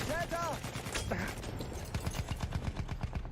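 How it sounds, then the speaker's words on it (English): Short bursts of gunfire from a rifle in Battlefield 1, a World War I shooter, repeating in rhythmic clusters through the second half, preceded by brief muffled voice chatter. "You can also burst fire."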